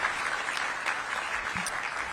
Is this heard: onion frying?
no